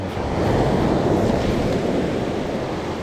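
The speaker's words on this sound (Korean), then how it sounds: "파도가 거의 안 친다 그랬는데 어, 여기는 파도가 좀 있네요" Ocean waves break on Sinmyeong beach in a continuous loud roar of surf, with wind buffeting the microphone and no voices.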